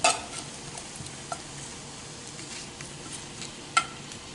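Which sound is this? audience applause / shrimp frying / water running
shrimp frying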